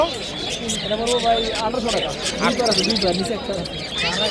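Caged birds at a weekly bird market in Fatullah chirp and coo steadily in the background while people talk and bargain close by.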